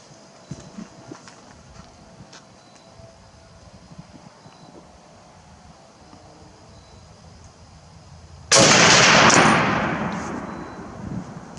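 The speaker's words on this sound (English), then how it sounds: "let's shoot another one just to be sure it wasn't me" A single loud M1 Garand rifle shot cracks suddenly after a long quiet stretch of faint outdoor background, then its report decays over a couple of seconds.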